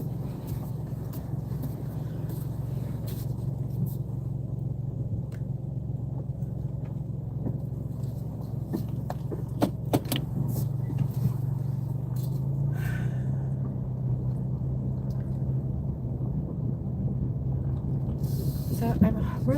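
A car drives steadily, heard from inside, with a constant low engine and road drone running unbroken throughout and a few faint knocks near the middle.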